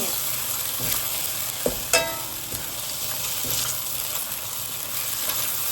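Shredded pork and onion stir-fry in a pan over high heat with a steady loud sizzle and a few scraping stirs of a spatula, with no voices.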